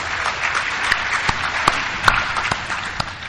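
Steady applause from an audience at an Alcoholics Anonymous meeting, a dense patter of many hands clapping close by, holding even throughout with a few sharper claps standing out.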